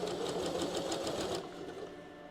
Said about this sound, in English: I am sewing the right part together